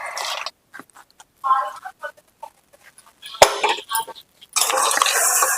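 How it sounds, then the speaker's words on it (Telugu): Tempering oil being mixed by hand into a drumstick and broad bean pickle: intermittent wet stirring and scraping bursts, with a few light clinks against the vessel. Quiet gaps separate the bursts, and a longer, denser burst of mixing comes at the end. "ఇప్పుడు నేను పోపు పెట్టేసిన ఆయిల్ అది ఇందులో కలిపేస్తున్నా అండి."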